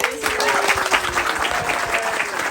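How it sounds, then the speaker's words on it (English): Audience applause fills the room for two guests being introduced at a gathering: a steady, dense wash of many hands clapping, close and fairly loud throughout, with a faint voice briefly audible underneath. "Round of applause."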